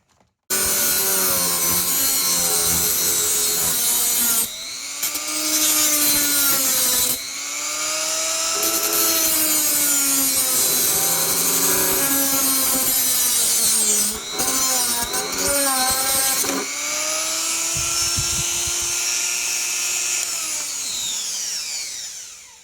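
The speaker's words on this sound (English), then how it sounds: "now I just need to cut these straps off and grind this down" A power tool grinds and cuts through straps on an Arcade1up Ms Pac-Man countercade cabinet, a loud, close whine rising and falling in several long passes with short pauses between them.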